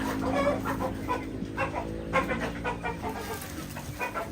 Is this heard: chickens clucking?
yes